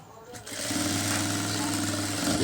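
A sewing machine stitches back tucks on an embroidered blouse, starting after a brief pause and running as a loud, steady mechanical whir with a fast stitching rhythm while someone talks over it.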